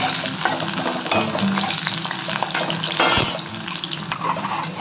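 Slices of bitter gourd fry in hot oil in a pan for a Bengali uche chorchuri, giving a steady close sizzle with brief stirring scrapes and bursts of bubbling.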